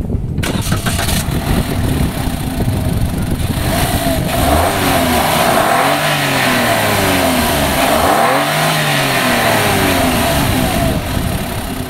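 A Toyota Gazoo Racing car with a 1200cc three-cylinder engine cranks and starts, then revs up and settles to idle a few times, loud and close with no talking.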